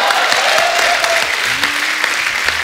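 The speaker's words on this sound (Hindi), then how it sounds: "सीरियसली बाबा देव साहब के लिए तालियां" Studio audience applause on a Hindi comedy talk show, steady dense clapping throughout, loud and close, with faint tonal music underneath.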